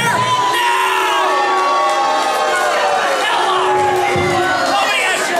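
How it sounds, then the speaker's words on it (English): A wrestling arena crowd cheers loudly for the Rockin' Rebel's entrance, a continuous roar of shouts, whistles and high-pitched yells that stays intense from start to finish. "Cheer now!"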